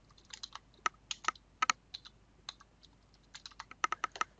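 Root password typed on a computer keyboard during a RHEL 7 installation, a quiet burst of irregular key clicks in small clusters, with brief pauses between runs and no talking.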